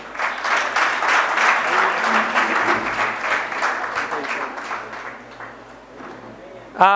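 Hall audience at a Sanskrit youth festival closing ceremony gives a prize winner a round of applause that starts strong, then thins and fades out, with a voice breaking in at the end.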